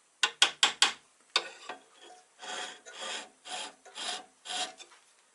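A lathe tool is sharpened by hand against a turning wheel, giving a burst of quick rasping strokes followed by slower, longer grinding rubs, close and fairly loud with short pauses between them.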